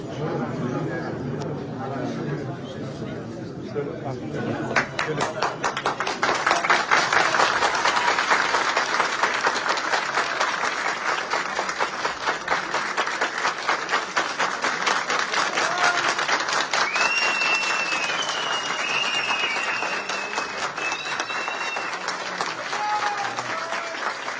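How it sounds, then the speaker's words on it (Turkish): A crowd at a political gathering in Ilgın, Konya breaks into loud, sustained applause together after a quieter start, a dense steady clatter of many hands with voices mixed in underneath. "Hep beraber alkışlayın."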